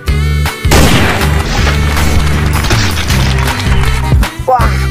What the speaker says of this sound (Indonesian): Wah, tembakan Glock Pistol Black Mamba.